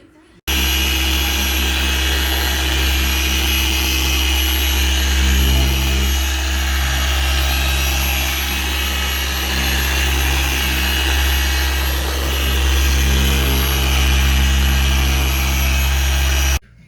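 A Rupes polisher with a wool pad buffs the paint of a barn-find C5 Corvette, a loud, steady motor hum and whine that runs for many seconds before cutting off abruptly.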